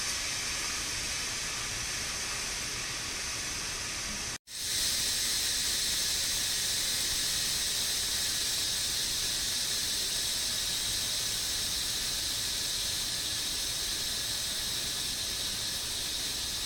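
Steam forcefully venting from the pressure release of an electric pressure cooker under a towel, a loud continuous hiss that cuts out for an instant and then resumes steadily.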